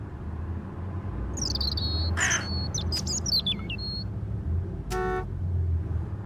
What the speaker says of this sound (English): all I could hear was the ceaseless drone of traffic